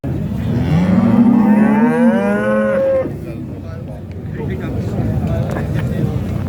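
A calf lows loudly and close in one long, drawn-out moo at a cattle market in Xaçmaz, followed by market bustle and talking voices.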